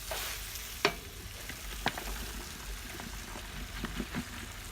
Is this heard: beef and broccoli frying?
yes